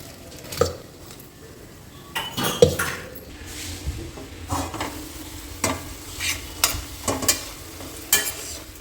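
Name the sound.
frying ridge gourd, garlic and tomatoes for chutney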